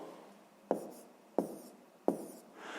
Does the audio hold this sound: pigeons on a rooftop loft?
no